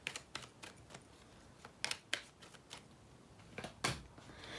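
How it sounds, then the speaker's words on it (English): Oracle cards shuffled by hand, a faint series of quick papery riffles and soft clicks in irregular bursts, with no talking. "let's shuffle our cards."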